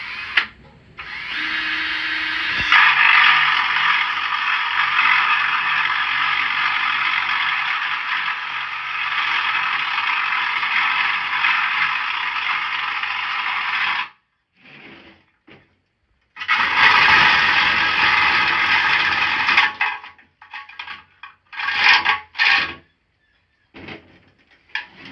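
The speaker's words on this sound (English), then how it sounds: "so now I'm going to drill a 1/2-inch hole in the back of the pedestal here" Power drill boring a 1/2-inch hole into the back of a statue pedestal, a loud steady whine running for about eleven seconds, then a pause and several shorter bursts of drilling close by with no talk.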